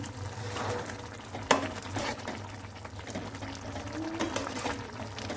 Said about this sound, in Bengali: দেখুন আমি এবার মাছগুলো নেড়ে দিচ্ছি